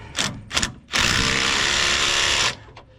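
A 3/8 inch hand ratchet clicks close up on a Jeep, with two short bursts of pawl clicking followed by a longer run of rapid, steady ratcheting, then a faint final click.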